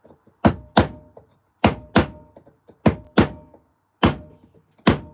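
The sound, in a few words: bashing stone while stone carving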